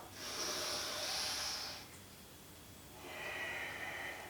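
A steady breath drawn in during a warrior-two yoga flow, soft airy inhale clearly audible for nearly two seconds, then a pause and a second quieter breath near the end; close and alone, with no talking.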